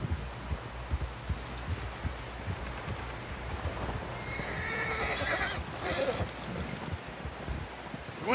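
A horse whinnies in Red Dead Redemption 2 as hooves clip-clop at a walk through rustling brush, the neigh rising out of steady hoof thuds near the end.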